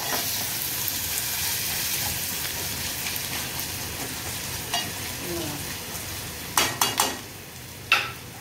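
Garlic sizzles steadily in a hot pan while it is cooked for a monsoon wild-vegetable (kantola) dish, with a few sharp scraping clicks of stirring near the end, close and fairly loud, with no talking.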